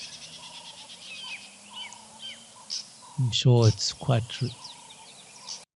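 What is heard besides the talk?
birds calling, yellow-billed hornbill and doves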